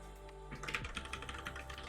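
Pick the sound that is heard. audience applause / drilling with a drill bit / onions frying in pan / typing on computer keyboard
typing on computer keyboard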